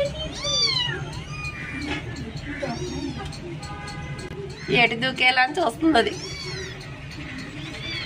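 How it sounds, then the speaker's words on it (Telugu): Two young kittens in a home, near a kitchen window, meow in repeated rising cries, some loud and close, while a person talks over them throughout. "ఈరోజు నేను మా ఇంటికి 2 పిల్లి పిల్లలు వచ్చాయి."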